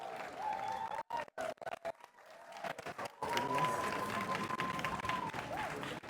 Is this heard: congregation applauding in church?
yes